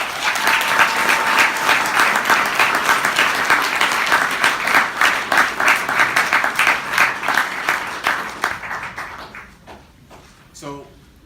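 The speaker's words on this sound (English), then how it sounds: "giving a big round of applause to all of our athletes and everything that they've done this year" A crowd at an upper school athletic awards ceremony claps loudly and steadily for the athletes, the applause thinning into scattered claps and fading out near the end.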